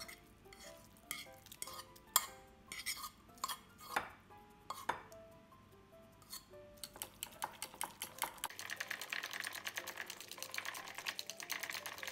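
Eggs being whisked by hand in a bowl with sautéed canned corned beef, seasoning powder and salt, giving a run of quick, close clinking taps against the bowl that grow denser and steadier toward the end, with no talk.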